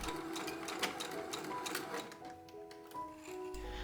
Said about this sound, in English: I sew a couple of stitches, then revert, sew a couple of stitches backwards, and then I start sewing in the right direction again